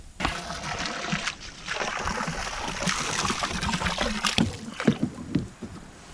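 Water gushes and splashes steadily from a hose into a livestock water tank on a homestead, a close, continuous rushing with irregular splatters throughout.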